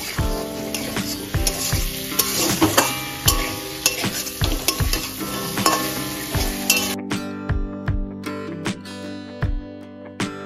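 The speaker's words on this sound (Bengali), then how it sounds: "কপি এবং আলু দিয়ে আরো এখানে 3 মিনিট মতো মশলার সাথে কষে নেব।" Fried cauliflower and potato sauté with spices in a pan, with a continuous sizzle and a steady rhythm of spatula scrapes and clinks against the pan. The frying noise drops away near the end while the stirring knocks continue.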